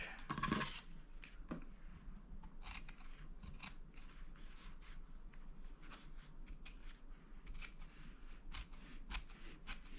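Sewing scissors snipping through fabric, a series of crisp, irregular cuts close to the microphone, with faint rustling of the cloth between snips and no talking.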